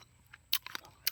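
Someone bites and chews a small guava fruit up close, producing a few crisp, crunchy bursts spaced irregularly over a quiet background.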